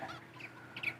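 Chickens cluck softly in the video game Farming Simulator 22, a few short, faint clucks and squawks over about a second, with a slightly louder call near the end.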